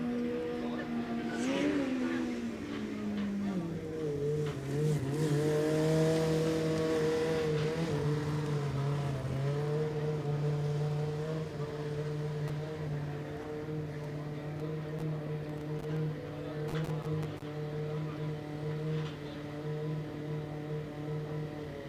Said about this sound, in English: I felt like the driver was very, very sensitive on throttle there. You could hear the revs going up and down a couple times.